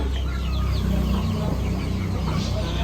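A black hen clucking on a rural farm, close and loud, with steady, repeated clucks throughout amid outdoor ambience and no talking.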